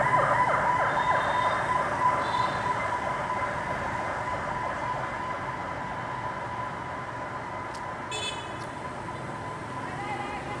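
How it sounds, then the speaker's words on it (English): Police car and ambulance sirens wail steadily through a busy Hanoi street on a Friday evening, continuous and fairly loud over constant traffic rumble and city bustle. "A police car, ambulance."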